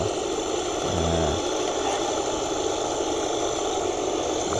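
A National water pump motor with a rough-sounding bearing runs steadily nearby, giving a continuous even hum and buzzing drone with no voices.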